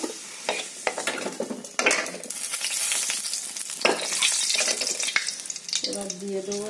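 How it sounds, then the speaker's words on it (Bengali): Potatoes fry in hot oil in a pan until reddish-brown. A loud, crackling sizzle is broken by stirring scrapes and clatters of a utensil against the pan. "আলুটা এই যে ভেজে নিই আগে লাল করে"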